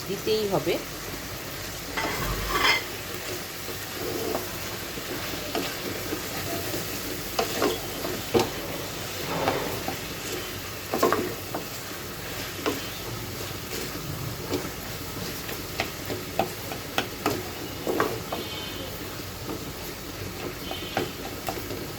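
Fish curry with two sliced tomatoes sizzles steadily in a pan while being stirred, a continuous frying hiss punctuated by clinks and scrapes of the spoon, close and fairly loud throughout.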